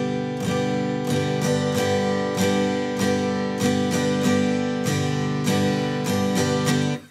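An acoustic guitar strums the chorus chords of a song in a steady down-and-up pattern, with bright even strokes falling in a regular rhythm, close and alone.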